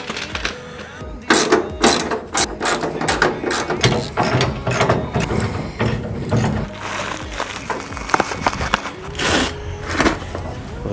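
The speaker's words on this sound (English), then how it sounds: "Tighten up this corner bracket real quick." Ratchet wrench tightening a corner bracket while assembling a 1971-1972 Dodge Charger front bumper: rapid, continuous close-up clicking and clattering in bursts, with metal parts rattling.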